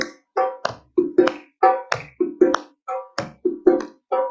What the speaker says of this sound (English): Clap and bounce.